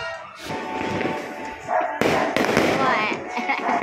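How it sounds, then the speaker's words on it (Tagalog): New Year firecrackers bursting outside a house, sharp loud bangs and crackling pops at close and middle distance, with dogs barking and voices in the background. "May puputok na sila."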